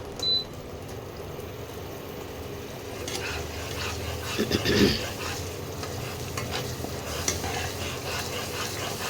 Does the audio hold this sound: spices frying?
yes